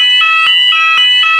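A fire alarm rings loudly and continuously, a piercing electronic tone with rapid regular pulses, close and alone.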